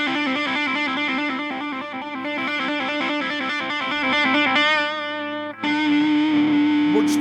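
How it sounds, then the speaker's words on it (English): A Stratocaster electric guitar played through a Rat distortion pedal, a loud, heavily distorted lead run of rapid repeated notes ending on a held, sustained note, with no voices. "More distortion at the end of the solo."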